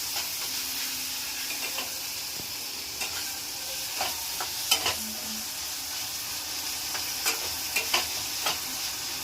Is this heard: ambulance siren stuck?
no